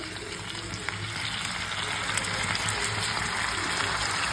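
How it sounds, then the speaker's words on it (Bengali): Chicken pieces and sauce sizzle steadily in a hot pan for chilli chicken, a continuous close frying hiss with no talking. "এরপর চিকেনগুলো এর মধ্যে দিয়ে দিচ্ছি। আর এবার ওপর থেকে সসটাও ঢেলে দিচ্ছি একেবারে।"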